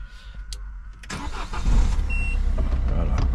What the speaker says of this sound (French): un démarrage aux petits oignons